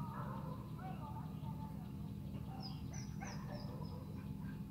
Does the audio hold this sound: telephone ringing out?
no